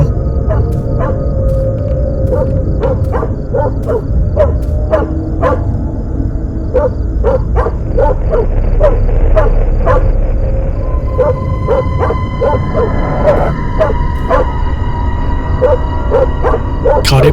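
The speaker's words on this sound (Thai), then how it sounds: "พบกับซีที่กำลังเห่าบางสิ่งอยู่ตรงนั้น" In the horror video game Fears to Fathom: Carson House, a dog barks repeatedly near a house's outdoor electrical box, a long series of sharp yips and barks in uneven bursts over a low, rumbling ambient drone.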